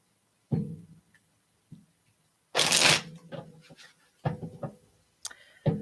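A deck of situational cards is shuffled in short riffling bursts, with soft taps and clicks between them, close and fairly quiet. No one speaks.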